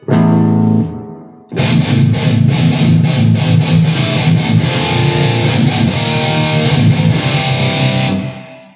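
Seven-string electric guitar through a modern high-gain distortion, opening with one sustained chord, then a pause and a loud chugging, rhythmic palm-muted riff with staccato accents.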